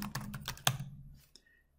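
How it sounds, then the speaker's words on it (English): Quick bursts of keystrokes on a computer keyboard, a rapid clatter of clicks that slows into a few scattered taps and then stops. "And I'll give the folder a name just by typing"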